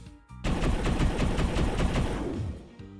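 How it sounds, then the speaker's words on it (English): Arm cannons fire a rapid multi-shot volley, a dense run of fast repeated blasts that hits loud and close, then tails off after about two seconds. "Nova unleash a multi-shot volley from both arm cannons"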